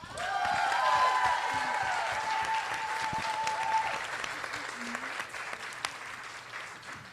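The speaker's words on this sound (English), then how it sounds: "please give our candidates that showed up a round of applause." Audience applause for city council debate candidates at a District 14 forum in Los Angeles, a steady sustained round of clapping from a mid-sized crowd lasting several seconds, with faint voices beneath.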